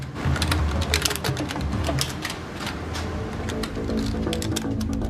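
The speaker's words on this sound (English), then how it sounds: "they hammer their keyboards very fast" Rapid, dense clicking of several computer keyboards being hammered very fast, a continuous clatter of sharp keystrokes over a low background hum.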